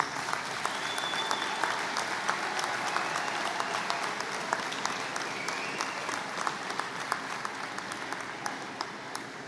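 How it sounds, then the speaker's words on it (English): A graduation audience at Bradford District High School claps steadily for parents and guardians, a dense, even wash of applause from a large crowd that holds for the whole stretch. "let's give them all a round of applause."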